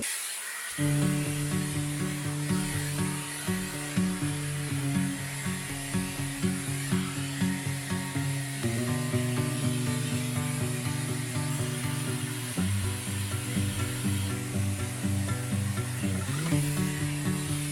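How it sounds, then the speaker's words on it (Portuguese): A hair dryer blows steadily on hair, a continuous loud whirring hum with a faint whine that barely changes, running alone without any voices for the whole stretch. "Então, eu vou secar meu cabelo agora."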